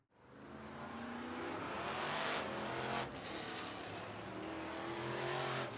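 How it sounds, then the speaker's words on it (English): Stock cars roar around the dirt oval at Hancock County Speedway during a heat race, engines droning loud and continuous with swelling revs and passing surges, no voices over the din. "Off of turn 4, Shryock will be your heat race winner."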